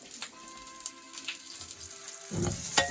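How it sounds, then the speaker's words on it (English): Garlic cloves fry in hot oil with a soft, steady sizzle and crackle, close by with no talking, swelling into a louder spitting burst near the end. "I'm going to put some garlic cloves in the oil and give them a bit of a colour"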